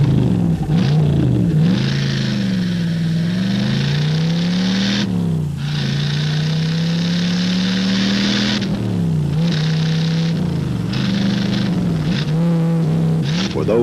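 A Chevy Camaro race car engine roars loudly and steadily, its pitch climbing and dropping through repeated revs and gear changes at close range.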